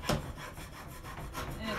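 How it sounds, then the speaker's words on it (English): A stiff metal scraper drags across painted wood to strip it down to a chippy finish, giving a close, continuous raspy rubbing with a sharper stroke at the start and no one talking. "I'm going to show you guys how I scrape this."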